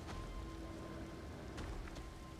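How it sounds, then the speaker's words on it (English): Soft, steady rainfall in the video game Elden Ring patters quietly throughout, a constant hiss with a faint tonal hum underneath. "I hear you don't like the rain."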